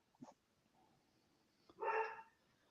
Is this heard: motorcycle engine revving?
no